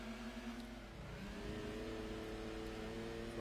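Daihatsu Sirion engine racing in Gran Turismo 2: a steady, buzzing mid-pitched drone held at high revs with a brief dip, quiet and continuous with no talking.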